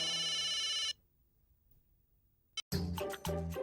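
A telephone rings in one steady electronic burst of under a second, followed by near silence and then louder sounds resuming.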